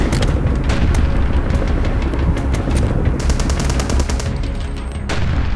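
Rapid, continuous machine-gun fire in the retro shooter game HROT, with dense, loud, rattling bursts and booming impacts that go on almost without a break before a brief lull near the end.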